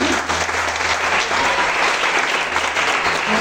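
A church congregation applauds at a women-led worship service, with dense, steady clapping that holds at full volume throughout.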